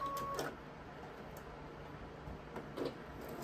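A sewing machine back-tacks a few stitches on a quilt border, giving faint mechanical clicks and a soft whir, with quick bursts near the start and again toward the end in a quiet room.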